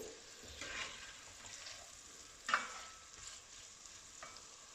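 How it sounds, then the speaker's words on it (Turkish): Onions sautéing in a pan give a quiet, steady sizzle, with a few soft clinks and stirring scrapes. "soğan diriliğini kaybedene dek kavuruyorum"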